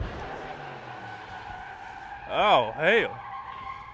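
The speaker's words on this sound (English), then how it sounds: "Is that a burnout? That was a burnout." A drag car from a high school Ford-versus-Chevy build does a burnout, its tires letting out two sharp, rising and falling squeals in quick succession over a low engine rumble, with a voice speaking nearby.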